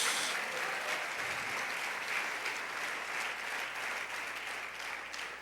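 Sustained congregational applause in a church during a sermon, a steady dense patter of many hands that stays even throughout, moderately distant and fairly quiet.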